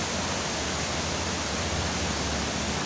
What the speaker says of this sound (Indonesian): Punya sensasi tersendiri karena airnya cukup deras dari atas.